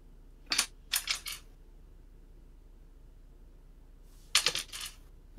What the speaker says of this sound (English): This is dice rolls.